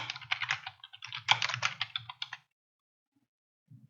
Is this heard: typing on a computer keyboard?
yes